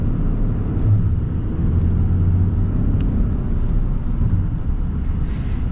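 A 2024 Ram 3500 Laramie Night Edition high-output pickup under partial acceleration, heard from inside as a loud, steady low engine rumble and drone that holds evenly throughout with no talking.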